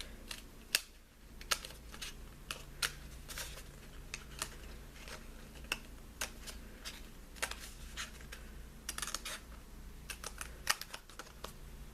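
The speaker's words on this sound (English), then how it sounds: "So now that I have my detail scissors, I'm just going to start cutting this out." Small detail scissors snip repeatedly through a paper pattern, a steady run of sharp close clicks and crunches over a quiet room hum, with no voice.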